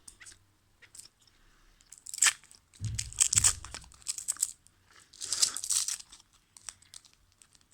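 A Turbo chewing gum wrapper is unwrapped close up, with sharp crinkling and tearing bursts in irregular clusters separated by quiet pauses.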